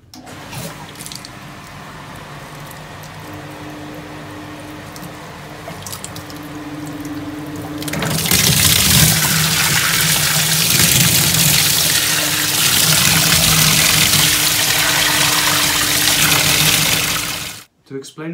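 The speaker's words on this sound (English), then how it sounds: "now we're going to powder flush straight through the pump and straight through the filter" A central heating system is powerflushed with pellets driven through the pump and a magnetic filter, a quiet hum giving way to a loud, steady rush of water that continues, then stops abruptly.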